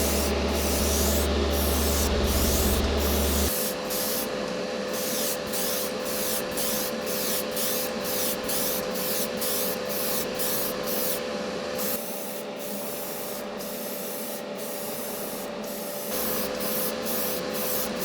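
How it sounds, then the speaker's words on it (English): Tamiya XF77 paint hisses steadily from a spray can or airbrush onto a model Toyota Mk V Supra car body in close, repeated passes, with rhythmic short ticks throughout. "I sprayed 3 coats on the body, making each coat heavier than the coat before."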